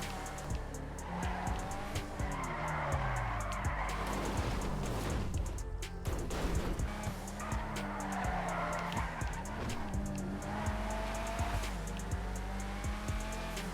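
A Grotti Brioso R/A, an all-wheel-drive car with a short wheelbase, is driven hard in GTA Online: a buzzing engine revs and shifts while tires squeal and skid again and again, close and loud throughout.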